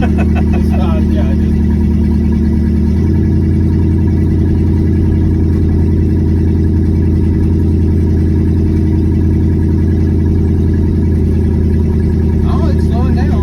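A 1972 Chevrolet C10 pickup's engine drones steadily and loud from inside the cab while driving and slowing down, with a low hum shifting slightly in tone around the third second; voices talk faintly over it.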